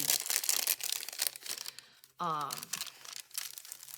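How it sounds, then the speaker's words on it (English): Close, busy crinkling and rustling of chunky tissue paper being handled, crackling in bursts, with a brief voiced sound in the middle. "tissue paper, and I like to add it for those that just love that sound."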